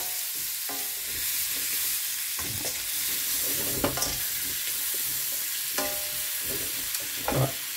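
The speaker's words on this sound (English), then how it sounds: "add our mushrooms" Baby mushrooms frying in a hot pan: a steady soft sizzle broken by periodic scraping and clacking as they are stirred and pushed around, fairly quiet with no talking.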